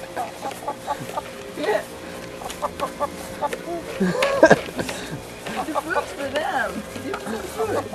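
Chickens cluck in short, scattered calls beside children playing outdoors, the birds moderately close and heard under ongoing talk from adults and kids.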